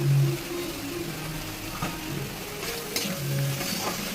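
Fish pieces with turmeric, salt, cumin and Kashmiri red chili powder being stirred in a frying pan, a continuous close sizzle with scraping spatula strokes and soft clinks.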